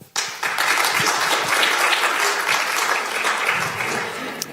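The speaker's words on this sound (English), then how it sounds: "A big applause for Anne." Sustained audience applause fills a café innovation event, starting abruptly and holding steady as many hands clap together, loud and continuous without speech.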